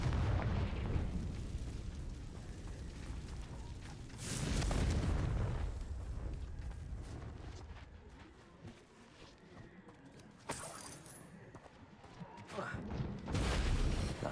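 Fiery Confringo spell blasts go off in Hogwarts Legacy on Nintendo Switch, with several heavy, booming explosions swelling and fading over game ambience and background score.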